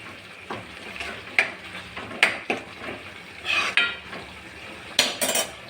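A spoon scrapes and clinks against a pan in irregular strokes while appalam kuzhambu curry sizzles softly underneath.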